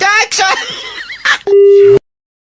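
Brief speech, then a steady electronic phone disconnected tone sounds for about half a second before cutting to silence.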